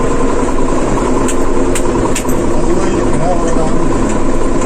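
An Erkunt Bereket 60E 60 hp tractor engine chugs steadily at a low idle, close and loud, with people talking over the rumble.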